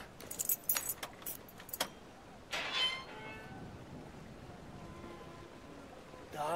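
Keys jingle and rattle in several quick bursts of metallic clinks within Brothers: A Tale of Two Sons, loud at first, then a brighter shake, before fading into a quiet ambient game backdrop.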